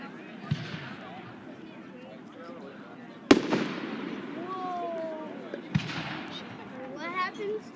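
Fireworks go off nearby in three sharp, loud bangs spaced a few seconds apart, with whistling, crackling trails between them and voices murmuring in the background.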